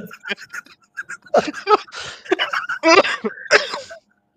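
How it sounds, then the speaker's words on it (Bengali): A man breaks into a coughing fit during a spoken debate, with a run of harsh, throaty bursts at close range that come in uneven clusters over a few seconds before going quiet. "আস্তে, আস্তে কাশি উঠে গেছে"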